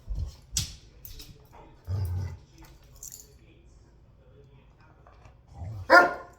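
A dog barks on command during obedience training at home, a few short sharp barks and a whimper spaced across the moment, close and loud, with a person speaking between them.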